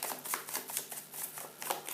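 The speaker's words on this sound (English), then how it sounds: "shuffle together the new Act 2 cards with the old ones" Board game cards for Dawn of the Zeds are shuffled together, giving a dense, rapid riffling and flicking of card stock close up, continuous for about two seconds with no voice.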